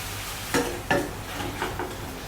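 Chicken pieces pan-frying slowly in a pan for three cups chicken, with a soft steady sizzle broken by a few sharp stirring or spatula clatters against the pan.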